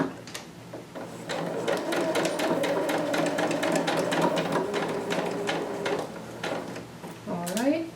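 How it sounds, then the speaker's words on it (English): A sewing machine stitches a dart in dress fabric from top to bottom, a steady close whirring run for about five seconds, then a few slower stitches and clicks, with someone speaking over it. "I'm just going to stitch my dart from top to bottom"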